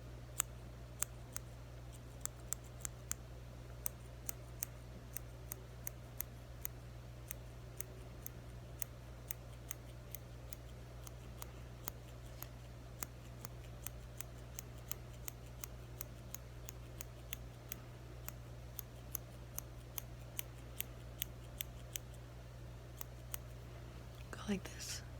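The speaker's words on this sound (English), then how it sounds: "Let me just use the other scissors to get the little hairs that I missed." Small scissors trim stray hairs during a men's shave role play, giving steady, quiet, closely miked snips throughout, with soft whispered talk underneath.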